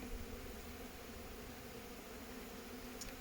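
Honey bees in a full hive buzz during an open hive check as brood frames are handled, a faint, steady, even hum that holds with no talking.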